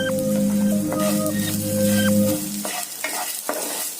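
Curry leaves and a pinch of salt crackle and fry in a pan for sambar, with stirring scrapes over a steady hum that drops away after about two and a half seconds, leaving faint sizzling and a few clinks.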